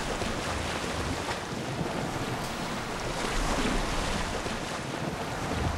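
Water washing and lapping steadily around a boat being rowed along a shallow coast in Assassin's Creed Odyssey, with wind rushing over it the whole time.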